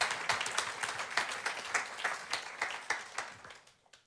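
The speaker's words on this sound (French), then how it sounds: "Merci, on peut l'applaudir." A room full of attendees at an agricultural talk applauds a speaker, a fairly quiet but clear burst of many hands that holds steady, then thins and fades out toward the end.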